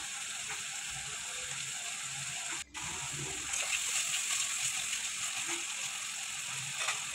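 Small shrimp fry in a pan with a continuous hiss and sizzle and occasional light spatters, close by, with a brief drop partway through and no speech.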